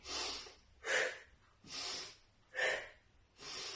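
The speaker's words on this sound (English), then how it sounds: "When you squeeze, you're breathing out." Five strong, close breaths during a seated older-adult exercise class, alternating sharp exhalations and breaths in at an even rhythm, heard alone with no talk.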